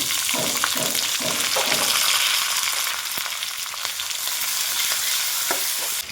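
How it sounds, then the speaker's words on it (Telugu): Onions, green chilies and curry leaves fry in hot oil with mustard seeds and dried red chilies, sizzling loudly and close. Stirring scrapes break up the crackle with a few rhythmic strokes early on. "కరివేపాకు అవి కొంచెం ఫ్రై అయిన తర్వాత ఉల్లిపాయలు, పచ్చిమిర్చి కూడా యాడ్ చేసుకోవాలండి."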